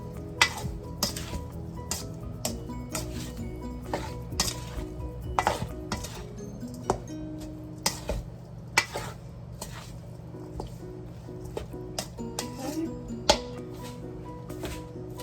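Chicken casserole ingredients tossed in a buttered metal pan, with repeated clanks and scrapes of the pan and utensil over a steady low sizzle, close and continuous with no talking.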